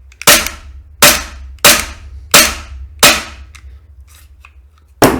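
A WE G19X MOS Gen 5 gas blowback airsoft pistol fitted with an RMR sight fires six sharp, loud cracks at a steady pace of roughly one per second, each with a quick mechanical snap of the slide, very close with a low hum underneath.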